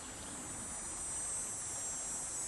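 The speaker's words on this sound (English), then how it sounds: "Cicada." Cicadas on a summer day produce a steady high-pitched buzzing drone, continuous and faint, alone against low background noise with no voices.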